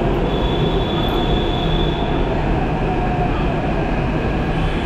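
A Hyderabad metro train runs at a station toward Nagole, a loud, steady rumble of wheels and carriage noise with a faint high whine, no voices.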